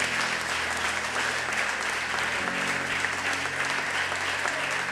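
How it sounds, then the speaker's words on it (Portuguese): Church congregation applauding during an evening worship service, a dense, continuous wash of clapping from many hands, loud and steady throughout with low musical tones and murmur faintly underneath. "Você pode aplaudir ao Senhor nesta noite?"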